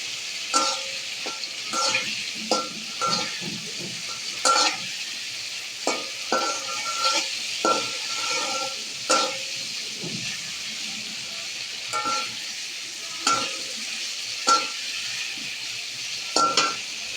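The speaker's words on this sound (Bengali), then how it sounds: "এখন এটা কষিয়ে নিয়ে কষিয়ে নিয়ে তারপরে আমি দিয়ে দিব মাছগুলা" Masala sautéing in a pan before fish goes in, a steady close sizzle and hiss of frying spices broken by repeated scraping and clacking stirs of a spatula against the pan, with no one talking.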